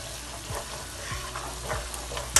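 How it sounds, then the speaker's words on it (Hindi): Masala sizzling and frying in a pan while being stirred, a steady low crackle with soft scraping strokes recurring about every half second, close and fairly quiet, no voices. "मसाला भुन गया बहुत अच्छी तरह से।"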